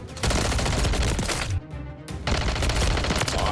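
Video game gunfire: dense, loud bursts of shots fill the clip, broken by a brief half-second lull before the shooting resumes just as heavily.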